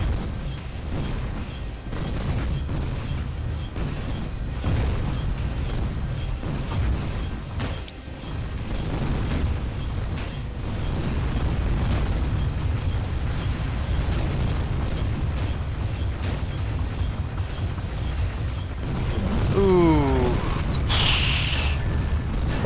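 Homing missiles explode in the video game Tower of Guns 2 during a boss fight, producing a dense, continuous stream of booming blasts and rumbling detonations. A short swooping sound and a bright burst come near the end.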